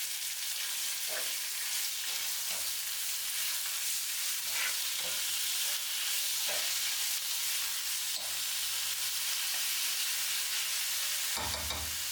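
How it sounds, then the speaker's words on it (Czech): Diced meat sizzles steadily in a frying pan while browning for a Czech risotto. The frying is a constant loud hiss with occasional soft stirring knocks and no speech. "Přidám pokrájené maso, které také orestuji, nebo spíš osmahnu, tak, aby už nebylo růžové, ale krásně hnědé."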